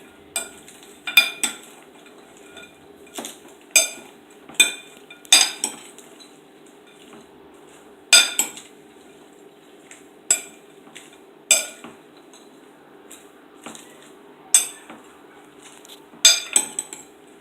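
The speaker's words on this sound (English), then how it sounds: "I'm just gonna mix these together." A spoon or utensil tosses pineapple salad with raisins in a bowl, giving a series of distinct clinks and scrapes against the dish at irregular intervals, close and clear with no talk.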